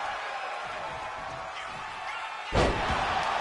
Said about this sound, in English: Flips up and over for a neck breaker.